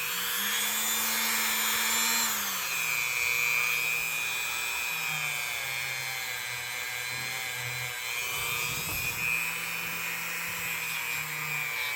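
A buffing wheel with jeweler's rouge polishes a vintage Colonial Stockman pocket knife, giving a steady, high motor whine and rubbing hiss throughout, with the pitch dipping slightly as the blade presses in.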